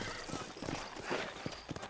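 Horses clip-clop at a walk in the Red Dead Redemption video game, faint hoofbeats landing in an uneven rhythm against a soft ambient background, with no talking.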